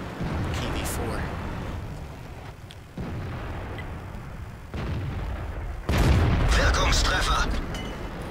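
Tank cannon shots in World of Tanks as an IS-3 and a KV-4 trade fire, several heavy booms spread across the stretch with one especially loud blast near the end, set against game ambience and a player talking.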